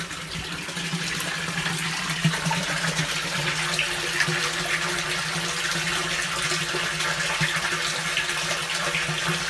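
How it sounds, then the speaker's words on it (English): Water gushes steadily through a freshly cleared drain line at a golf course curb drain, a continuous, moderately loud rushing flow with a low hum underneath and no speech. "we've got a great flow of water"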